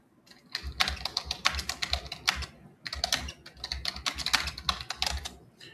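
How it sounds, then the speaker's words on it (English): Rapid clacking of keys on a computer keyboard, typed in two quick bursts separated by a brief pause, close and fairly steady, with no voices. "There goes Steve clacking away on the keyboard."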